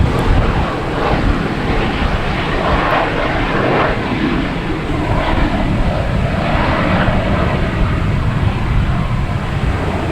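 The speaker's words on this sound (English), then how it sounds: "we have British Airways on the way in here" A British Airways airliner comes in to land at Boston Logan Airport, its engine roar steady and loud throughout, with broadband rushing noise and no pauses.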